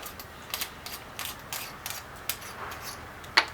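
A rifle scope turret on a 6mm Creedmoor rifle is turned one mil to the left, giving about ten crisp, evenly spaced mechanical clicks up close, with a slightly louder final click and no speech.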